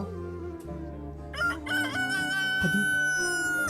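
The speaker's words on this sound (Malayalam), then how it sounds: "കോഴി കൂവി, നീ കേട്ടില്ലേ?" A rooster crows loudly in one drawn-out call, heard over sustained music in the background.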